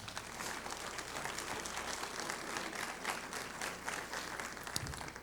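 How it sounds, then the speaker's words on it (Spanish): Crowd at a Spanish-language church general meeting applauding the Lord, a steady, fairly distant wash of clapping that continues evenly throughout. "Denle un aplauso al Señor."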